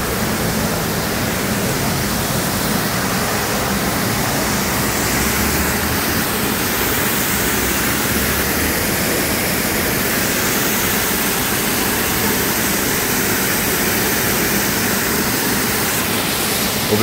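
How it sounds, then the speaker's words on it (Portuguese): Natural waterfall in Curitiba, Paraná, pouring as a dense, steady roar of rushing water, loud and close, unchanging for the full length with no voices. "fluxo de água natural aí"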